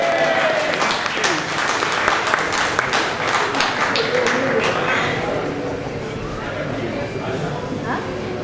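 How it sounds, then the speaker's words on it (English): An indoor audience at a fan convention breaks into dense, sustained clapping that holds steady and loud for the whole stretch, with crowd chatter mixed in. "give the man a round of applause"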